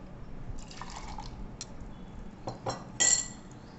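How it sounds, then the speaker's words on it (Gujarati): Popsicle mixture being stirred with about half a cup of water in a container, giving a few faint, scattered clinks and liquid taps from a utensil, with a sharper clink near the end, quiet and close with no talking. "અડધો કપ જેટલું આપણે પાણી એડ કર્યું છે અને આપણે બરોબર મિક્સ હલાવી લેશું"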